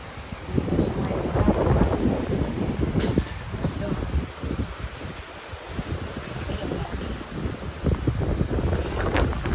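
Heavy first-of-the-season rain pours down in Surat with thunder, a dense, steady roar of rainfall that swells and rumbles through the whole stretch, close and loud.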